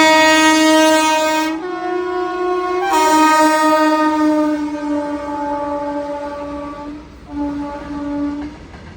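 Goods train coming along the adjacent track, announced by a long, loud, sustained multi-tone horn that cuts out briefly and then resumes, with rail rumble beneath and no talking.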